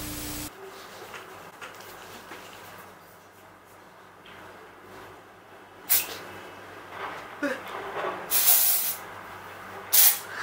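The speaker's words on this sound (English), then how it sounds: "I've never used a dry shampoo before." Dry shampoo is sprayed onto hair from an aerosol can in several short, sharp hissing bursts near the end, after a stretch of quiet room tone.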